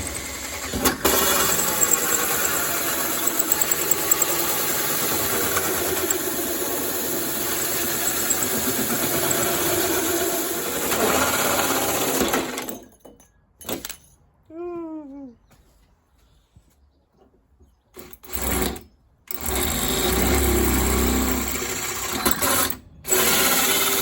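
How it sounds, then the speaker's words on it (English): Power drill boring holes through the metal wing panel of a Land Rover Discovery 2, a loud sustained whining grind that runs long, then stops and restarts in short bursts with quiet gaps between. "That's the holes drilled."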